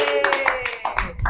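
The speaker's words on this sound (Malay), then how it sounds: "bagus, tepuk tangan semua." A classroom of pupils clapping hands together for a little over a second, a dense burst of many claps with voices mixed in under the applause.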